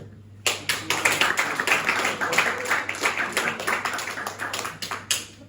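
Audience in a stand-up comedy club in Malmö breaking into scattered clapping, starting sharply then continuing as a steady patter of many hands, moderately close and fairly loud, with a low steady hum underneath.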